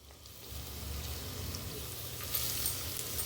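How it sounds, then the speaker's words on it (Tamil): Carrots and beans sautéing in a pan with onions, a soft, steady sizzle and crackle close by that swells slightly as the vegetables settle, with no talk. "இப்போ இதில் பீன் சேர்த்துக்கிறேன் கேரட் சேர்த்துக்கிறேன்"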